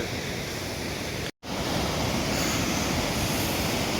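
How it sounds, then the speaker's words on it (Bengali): A mountain waterfall pours down into the Lachen river, a dense, steady rushing roar of water broken by one brief dropout. "ওই যে ঝর্ণাটা পড়ছে ওপর থেকে পাহাড়ে"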